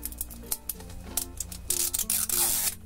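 A rasping, ripping zip runs in short jerky pulls, growing louder and hissier toward the end, close by, with background music underneath.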